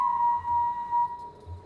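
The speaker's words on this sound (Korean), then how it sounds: "누가 이 오밤중에 휘파람을 불어?" A single person whistles a thin, steady tune late at night in the Killer Frequency video game, the clear tone wavering slightly and pausing briefly, alone against a quiet background.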